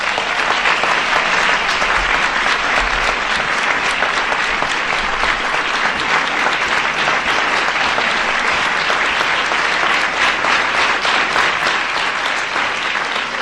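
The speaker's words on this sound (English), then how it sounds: "give them a big round of applause." Sustained loud applause from an audience at a ceremony honouring Presidential Medal of Freedom winners, dense steady clapping with a faint crowd murmur filling the whole stretch without a break.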